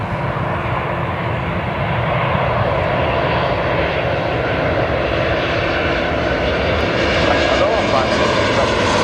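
Fixed-wing airplane landing at Lisbon Airport on runway 03: a steady, loud engine roar holds throughout, with air traffic control radio voices heard over it.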